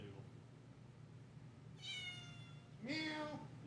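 A house cat named Doodle meows twice, a short rising call followed a second later by a louder, longer one, over a quiet room hum.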